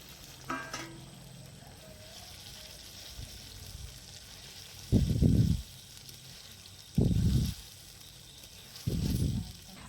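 Fried paneer pieces tip into a sizzling spice masala in a pan. Three short, fairly loud bursts of sizzling and clatter rise over a faint background hiss, with quiet pauses between them and no talking.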